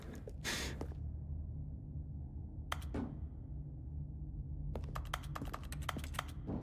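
Soft clicking keystrokes from The Stanley Parable, a quick cluster near the start, another brief pair around the middle, then a rapid run of taps toward the end, all over a low steady background hum.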